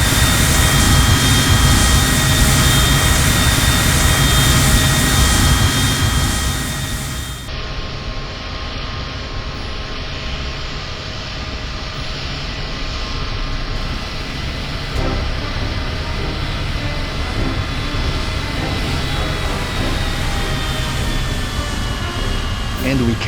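U-2 Dragon Lady spy plane jet engine in ARMA 3, a loud sustained roaring whine that drops in level partway through and then holds steady, with a voice talking over it.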